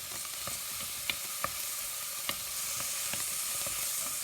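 Finely diced onion sweats in a pan with a steady, close sizzle and frying hiss, punctuated by occasional soft stirring clicks and taps, with no talking.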